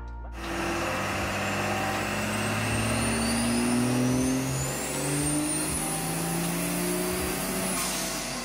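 A 1999 24-valve VP Cummins diesel race truck revs loudly and continuously, its engine pitch climbing steadily in a long sustained pull after an abrupt start, with no talk over it.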